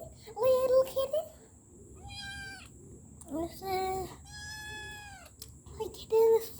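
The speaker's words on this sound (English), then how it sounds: "Oh my God, little kitten." A kitten meows repeatedly in thin, high-pitched cries, several distinct calls spaced over a few seconds, close by but fairly soft, with a voice chattering alongside.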